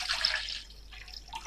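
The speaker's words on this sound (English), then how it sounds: "I'm gonna add my water." Water pours from a tap into a cooking pot for oatmeal porridge in a short, close, bright splashing burst that quickly fades to faint trickling.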